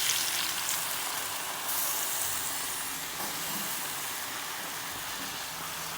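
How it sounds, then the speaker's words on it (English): Beer poured into a pot over a browning pork roast sets off a loud, steady broadband sizzle and hiss that runs unbroken and close throughout, with no voices. "I'm going to add some rich type beer to this now."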